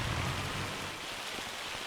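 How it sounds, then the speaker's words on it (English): Steady rain falling in Farming Simulator 25, a dense hiss of drops pattering on surfaces that stays fairly constant throughout, with a bit more low rumble at the start and no voices. "Alright, let's get out of this rain, Nordic."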